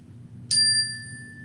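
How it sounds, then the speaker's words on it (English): A single bright chime is struck once as a cue during a family yoga session, ringing clearly with a sustained metallic tone that slowly fades over a low background hum. "First one, chime."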